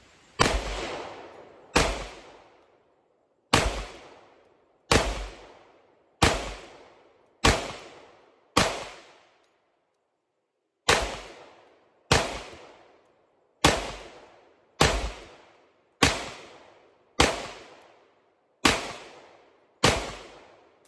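Loud FN 510 pistol shots fire one at a time at a steady pace at a shooting range, over a dozen sharp cracks with short ringing decays and brief pauses between.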